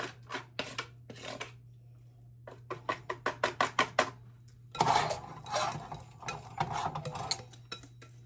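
A metal whisk clicks and scrapes against a pan of peach cobbler, first as a series of sharp rapid taps, then a longer, denser rasping scrape, close up and with no talking.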